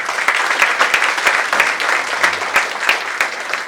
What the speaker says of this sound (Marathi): टाळ्यांचा कडकडाट हा थांबता कामा नये.